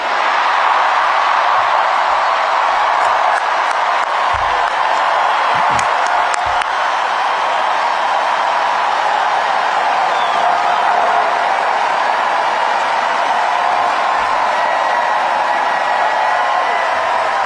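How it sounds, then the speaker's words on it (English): A political rally crowd keeps up extended, dense applause and cheering, a loud continuous wash of clapping with occasional whoops, sustained throughout. "did a lot of extended applause"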